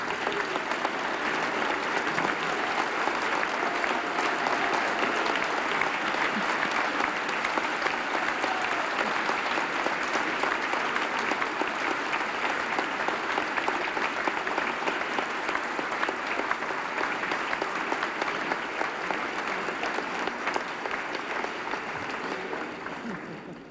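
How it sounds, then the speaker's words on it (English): A luncheon audience at a scholarship event applauds for award winners, steady loud clapping that fills the room for over twenty seconds before tapering slightly at the end. "give loud round of applause to our 2018 Army of Believers 5-Star General awardees"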